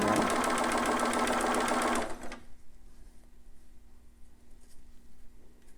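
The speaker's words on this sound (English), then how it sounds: "I'm going to continue to sew because I need that, I still need that sewn" A domestic sewing machine stitches fabric for a newborn romper in a rapid, steady mechanical run for about two seconds, then stops, leaving a quiet room with faint handling noises.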